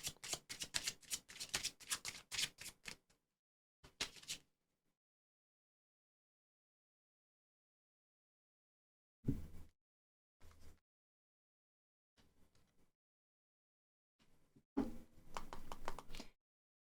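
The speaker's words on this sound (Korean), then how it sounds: "조금 더 추가 카드 뽑아보도록 할게요." Tarot cards being shuffled and drawn, close crisp riffling and tapping in separate bursts separated by long silences, with a longer shuffle at the start and again at the end.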